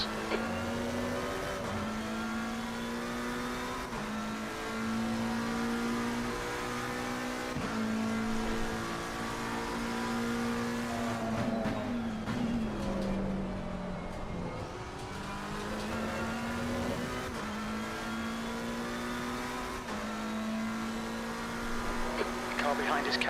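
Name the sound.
race car engines in Assetto Corsa Competizione (video game) at Red Bull Ring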